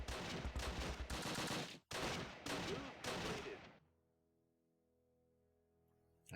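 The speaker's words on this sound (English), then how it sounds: "these guys are shooting outside the building" Dense bursts of gunfire crack and rattle in a Close Combat WWII tactical game battle around Caen, loud and sustained for nearly four seconds with a brief gap, then dropping to a low ambient hum.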